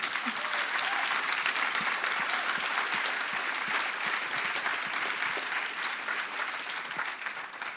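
Audience applause for a panel on homelessness, a sustained dense round of clapping from a hall full of people with a few sharper nearby claps standing out, holding steady before tapering at the end.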